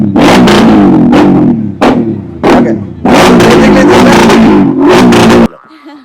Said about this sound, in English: I will just show you the exhaust sound now.